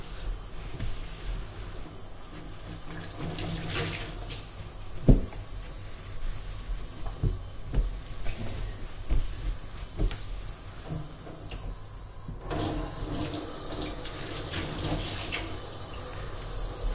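Running water rinsing a stainless steel kitchen sink, a steady moderate hiss of the tap with occasional splashes and soft knocks as it washes over the metal surface.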